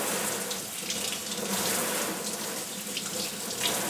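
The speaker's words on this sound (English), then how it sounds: "I'm going to give it a good rinse under the water." Tap water runs steadily into a sink for several seconds while a grocery-store Phalaenopsis orchid's roots are rinsed, a loud close splashing flow with no talking.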